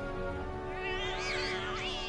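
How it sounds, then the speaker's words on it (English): Cats meowing in Final Fantasy VII Remake, a few rising and falling mews over a steady game soundtrack hum, close and moderately loud. "It's the cats."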